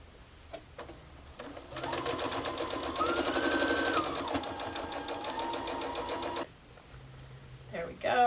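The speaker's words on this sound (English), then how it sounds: "we can bring this to our sewing machine" A sewing machine stitches down a quilt block, running steadily for about five seconds with a rapid mechanical whir, its pitch rising slightly mid-run, with quieter handling noises before and after.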